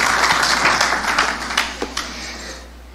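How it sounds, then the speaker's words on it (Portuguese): Applause from a church congregation, dense steady clapping that thins out and fades away near the end. "aplaudir ao Senhor pela vida dele, em nome de Jesus"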